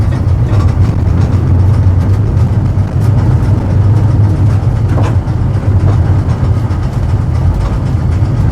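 Old-style tram riding through Brussels, heard from on board as a loud, continuous low rumble of wheels and motor with occasional faint rattles and squeaks along the track.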